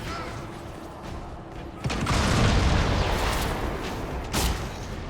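A detonation in the game Dragon Age: Inquisition lands as a single heavy boom about two seconds in, followed by a sustained rumbling roar with another burst near the end, over a steady game soundscape.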